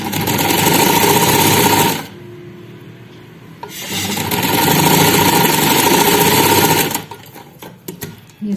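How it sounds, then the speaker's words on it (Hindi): A sewing machine stitches along a fabric neckline with a band attached, running loud and close in two long bursts separated by a short pause, then easing off into a few brief stop-start runs. "ये सिलाई हमारी कंप्लीट हो गई है।"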